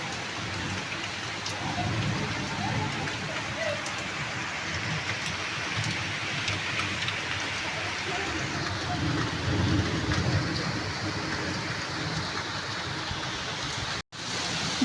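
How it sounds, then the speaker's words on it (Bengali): Steady rain keeps falling after a storm has passed, a dense, even patter at moderate distance with no voices, briefly cutting out near the end. "ঝড় থেমে গেছে এবার শুধুই বৃষ্টি হচ্ছে"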